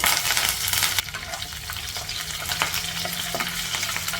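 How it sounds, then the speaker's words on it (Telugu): Oil sizzles and crackles loudly in a pan as tempering spices and curry leaves fry, with a spoon stirring now and then; steady, close sound. "ఇప్పుడు పోపు దినుసులు వేగాయి ఇందులో కొద్దిగా కరివేపాకు వేసేసుకున్నాము"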